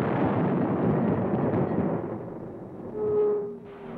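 Big tank guns firing on a military firing line: a heavy, continuous rumbling roar of blasts that fades slightly, then swells again near the end with a faint whine, with no voices.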